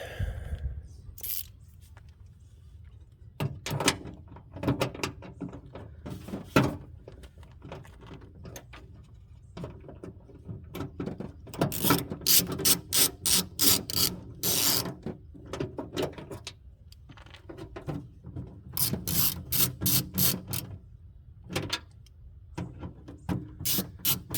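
Backup camera fasteners are tightened from the back side inside the rear panel of a 2015 Subaru Forester, making bursts of rapid mechanical clicking and rattling with scraping handling noises, close and continuous, with the fastest clicking in the second half.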